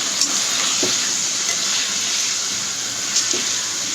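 Potatoes and drumsticks with turmeric stirred in a pan, a steady loud sizzle with a few soft scraping strokes of the spoon.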